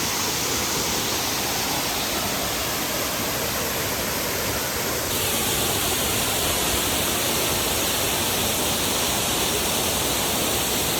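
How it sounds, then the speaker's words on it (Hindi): A powerful waterfall at a private resort roars in a dense, unbroken rush of falling water, close and loud for the whole stretch, with no voices. "आप देख सकते हो वाटरफॉल पास से। यार यार such an amazing beautiful masterpiece. क्या पावरफुल फ्लो है।"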